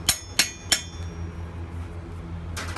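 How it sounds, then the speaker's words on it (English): Three sharp metallic taps from a hammer starting a screw crank into a Christmas tree trunk, evenly spaced and close, then a quiet pause before another faint knock. "we're gonna get the screw started just by tapping it a couple times with the hammer"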